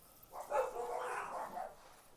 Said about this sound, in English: Oh boy, you hear my dogs there? Dogs let out next door. They're going crazy.